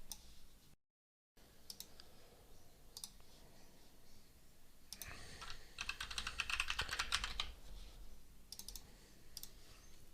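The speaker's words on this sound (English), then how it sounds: "So let's type in some code now that proves this." Typing Python code on a computer keyboard: steady clicking keystrokes through most of the stretch, growing denser and louder in a fast burst midway, with no talking.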